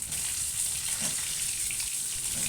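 Rohu fish sizzles steadily in hot oil, a constant crackling hiss close by with no talking.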